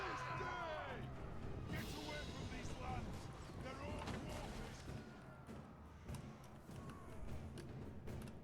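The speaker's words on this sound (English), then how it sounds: "Ooh, handgunner fire straight into them." Dwarf handgunners firing volleys in the video game Total War: Warhammer 3, a dense rolling crackle of musket shots and thuds heard under steady talking.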